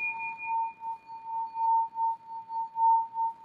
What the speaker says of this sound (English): Now I could get a smaller singing bowl like this.